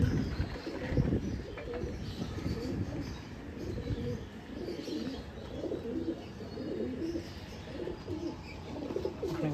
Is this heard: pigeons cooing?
yes